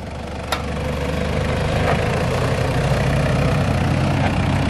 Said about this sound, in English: That'll be the exhaust.